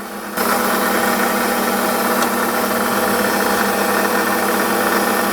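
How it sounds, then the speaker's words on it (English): Metal lathe running steadily as a centre drill starts a hole in the curved end of bar stock for a small engine part, a constant broadband machine whir beginning abruptly and holding throughout. "And I'm going to come in with the centre drill."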